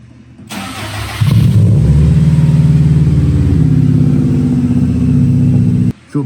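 A 2007 Subaru WRX with a newly installed Radium surge tank cranks briefly and then catches, settling into a loud, steady idle close by before the engine cuts off near the end.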